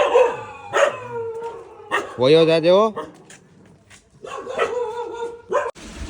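Several dogs bark and yelp nearby, including one drawn-out howling bark, while a person speaks briefly between them, near a women's college.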